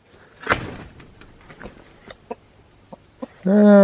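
A chicken in a backyard coop makes a few scattered, soft clucks and scratchy taps spread across several seconds, ending with a short voice close by.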